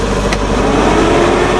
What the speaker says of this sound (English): I'll turn the blower motor on.